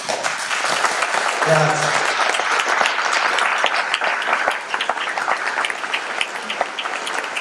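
Audience applause at a talk in Romena, Italy, a dense and steady clatter of many hands that fills the whole stretch, with a brief spoken word heard over it.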